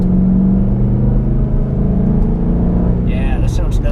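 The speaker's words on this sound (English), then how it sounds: "I love the sound of the engine. It's, you know, stock exhaust." A completely stock 2012 Ford Mustang GT with its factory exhaust pulls out of tight corners on a mountain canyon road, giving a loud, steady low engine rumble that carries beneath someone talking.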